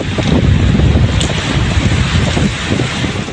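Dust-laden wind gusts over a road toward Maruthamalai near Kanuvai, Coimbatore, a steady loud roaring rush buffeting the microphone throughout with no voices.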